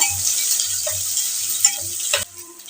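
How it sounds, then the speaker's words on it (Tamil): Chopped onions fry in a pan for crab curry, a soft broadband sizzle broken by faint clinks and stirring taps, before the sound drops abruptly near the end; no talking. "வெங்காயத்தை சேர்த்துக்கலாம் சேர்த்து நல்லா அது பொன்னிறமாக வதங்கி வரட்டும்"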